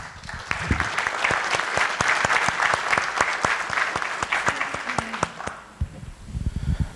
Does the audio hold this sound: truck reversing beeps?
no